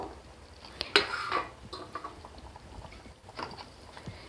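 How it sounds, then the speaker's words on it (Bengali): Paneer pieces simmering in a vegetarian gravy, a soft bubbling and spattering with a sharper pot clatter near the start and faint intermittent pops throughout, close by and moderately quiet with no talk. "পনিরগুলো দিয়ে একটু ফুটিয়ে নিতে হবে এক মিনিট মতো আমি ফুটিয়ে নেব"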